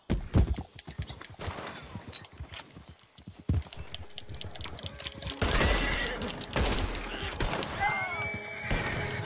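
A horse in the Red Dead video game gallops with rhythmic clip-clop hoofbeats, whinnies loudly and neighs, mixed with bursts of gunfire and shifting game noise that grows busier and denser.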